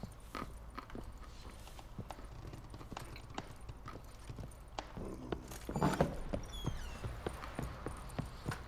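A horse's hooves clop in a steady walking rhythm in The Witcher 3 video game, fairly faint over a low background, with a brief louder patch of movement near the end.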